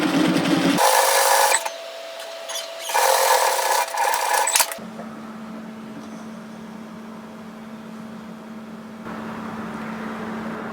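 A home sewing machine runs two loud bursts of stitching, sewing directly over an earlier seam line on a knit teddy jacket pocket, then stops and a steady low motor hum carries on.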